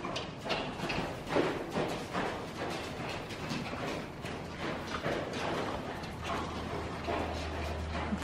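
Steady hoofbeats of a horse walking indoors on a soft, dusty surface, with a low continuous hum underneath and no talking.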